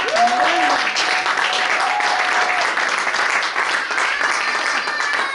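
A church congregation applauding loudly and continuously, with a voice calling out over the clapping at the start.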